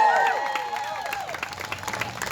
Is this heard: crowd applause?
yes